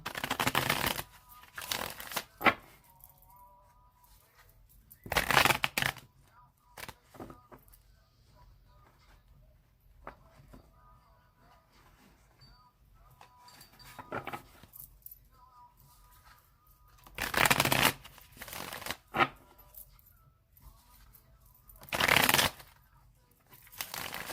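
Several separate bursts of shuffling a tarot deck, each a brief riffling rush, spaced apart by quiet stretches with faint handling noises.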